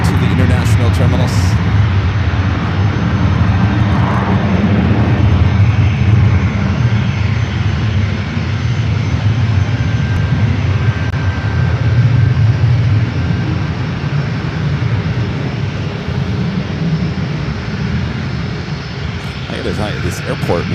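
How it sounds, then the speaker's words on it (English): A Korean Air Boeing 777 taxiing at San Francisco airport toward the international terminals, a steady loud low engine rumble and whine droning throughout, with a person talking over it. "Korean Air 777 heading to the international terminals."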